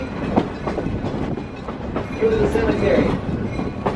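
The Roaring Camp heritage train rolls along its rails with rhythmic clickety-clack and a brief wheel squeal, while a person talks over the rumble.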